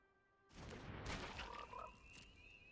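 A frog croaks in the Magic: The Gathering video game as a Frog card is played, a fairly loud burst of game sound with a few short warbling calls over steady background tones.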